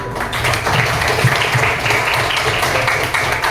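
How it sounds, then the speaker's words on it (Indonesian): A classroom of students claps together in a short, steady burst of applause, fairly close and even throughout. "tepuk tangan"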